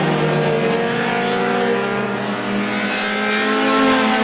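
Race cars circling the oval at Star Speedway in a Roadrunner feature, a loud continuous blend of revving engines droning and shifting pitch as the pack runs together, no talk.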